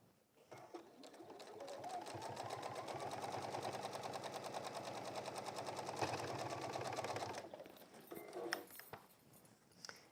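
A sewing machine runs steadily for several seconds, stitching a straight line down the layers of a textile bag, with a fast even mechanical rattle close up, then stops and a few small clicks and handling sounds follow.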